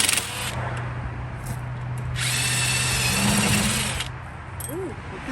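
A power tool rattles loose a bolt on a 2010 BMW 535i front bearing, with a short burst at the start and a longer loud impact-like whir in the middle over a low background hum.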